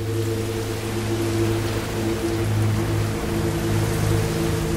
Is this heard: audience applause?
no